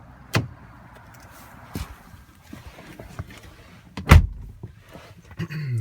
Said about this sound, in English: as you stick your hand inside the door handle and it unlocks the car.